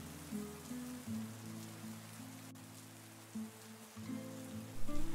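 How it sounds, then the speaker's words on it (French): Steady rain falls at a train station, an even hiss of drops that holds across the whole stretch beneath soft sustained musical tones, with no voices. "La pluie s'intensifie, mais la gare reste vide."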